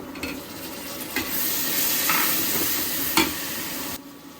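Onion, oil and garam masala frying in a pan, with tomato going in: a steady, close sizzle broken by a few sharp stirring scrapes, loud and alone.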